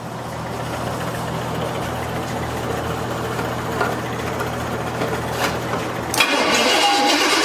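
A neglected square-body Chevy C10 cranks with a steady mechanical churn for several seconds, then catches near the end and settles into a louder, rougher running rumble.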